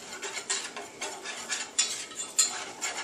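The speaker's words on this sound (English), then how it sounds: "So you have to be moving it around all the time in your pot." Milk, flour and butter stirred in a pot on the stove, a spoon scraping and clinking against the pan in a steady repeated rhythm, close and fairly quiet with no voices.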